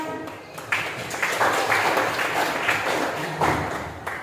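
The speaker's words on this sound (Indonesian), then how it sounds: "Tepuk tangan dulu" A classroom audience of students claps their hands together, a steady patter of overlapping claps, fairly close and moderately loud, sustained for several seconds.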